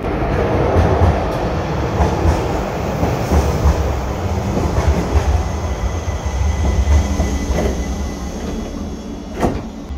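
An ex-London DLR light rail metro train rolls steadily along on the U18 line toward Essen, a continuous loud rumble with rail clatter and occasional faint squeals throughout.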